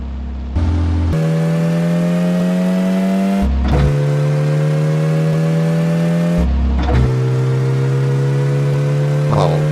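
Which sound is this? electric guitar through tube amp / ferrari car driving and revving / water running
ferrari car driving and revving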